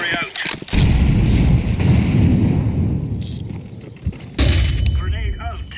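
Explosive burst and following roar in Counter-Strike 2 as an incendiary grenade goes off, opening with sharp cracks, then a loud sustained rumble that fades before another sharp hit near the end.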